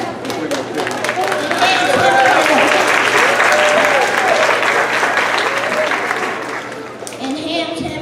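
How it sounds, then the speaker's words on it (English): A Broadway theater audience applauds, a continuous wash of clapping with music playing beneath it that stays loud and steady throughout. "Audience applause."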